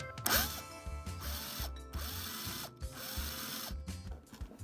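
A drill bit grinding the head off a rivet on a diecast toy car, heard as short bursts of whirring and grinding broken by brief pauses, with a rising whine at the start of each burst, close and fairly quiet.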